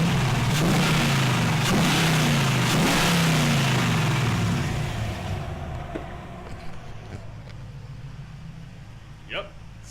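A V8-swapped Nissan 240SX engine revs hard nearby, with rising and falling surges over the first few seconds before settling back to a quieter idle with faint clicks.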